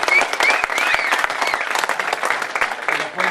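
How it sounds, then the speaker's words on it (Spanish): Audience at the GetxoBlog event applauding loudly, close dense clapping with a few whoops and cheers rising above it, holding steady throughout. "sí que me voy a pedir un aplauso especial también para Garbiñe"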